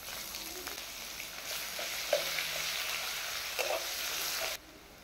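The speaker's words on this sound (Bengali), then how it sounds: "এবার দিয়ে দেবো কুচিয়ে রাখা পেঁয়াজ।" Chopped onion frying in hot oil already spiced with dried red chilli, cumin seeds and bay leaf, giving a steady close sizzle with a few stir clicks before it cuts out abruptly.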